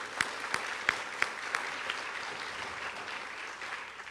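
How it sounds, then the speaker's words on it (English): Applause from an audience at a film screening panel discussion, heard as a soft, diffuse patter of clapping with a few sharper, louder claps near the start that fade into a steady murmur. "one more round of applause for Jennifer and Kathy for making this happen"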